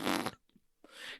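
A pet's fart, here the dog Ozzie Bear: two broad noisy bursts, the first loud and sustained, then a short quiet gap with faint gurgles before a second, softer trailing puff, close to the microphone.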